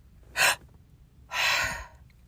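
Two breaths during a relaxed meditation breathing exercise: a short sharp intake followed, after a pause, by a longer, fuller breath pushed out, both close and fairly loud with no talking.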